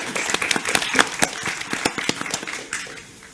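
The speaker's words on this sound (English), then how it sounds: "Do we just give them all a round of applause before we look at questions from everyone?" A small audience claps for a tech accessibility panel, a loose scatter of individual sharp claps that never builds into a dense roar, thinning out toward the end with faint room noise beneath.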